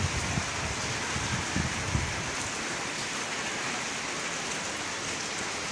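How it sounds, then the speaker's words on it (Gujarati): Heavy monsoon rain pours steadily onto surfaces outside a home, a dense, constant hiss with a few heavier drum-like patters early on, loud and continuous with no pauses. "વરસાદ જોરદાર ચાલુ થઈ ગયો છે"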